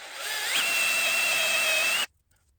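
An oiled drill bit bores into metal with a loud, steady whine that climbs slightly in pitch and then holds for about two seconds before stopping abruptly into silence.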